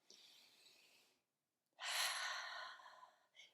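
Deep breaths during a breathing exercise: a soft breathy exhale, a short silent pause, then a louder, longer airy breath and a brief final puff, close to the microphone.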